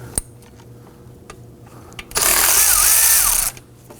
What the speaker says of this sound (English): Use a 12mm socket to loosen the alternator bolt here.